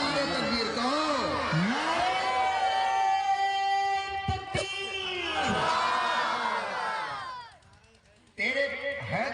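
A crowd at an annual religious gathering in Godda, Jharkhand roars a chant together in loud, sustained shouts that swell and fade, with a brief drop before voices surge again.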